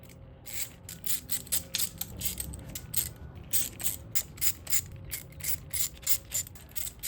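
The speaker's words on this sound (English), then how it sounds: "time to take these bolts off." A hand ratchet loosens the bolts on an engine's stator cover, giving quick rhythmic bursts of sharp clicking, close up and fairly quiet, with short pauses between strokes.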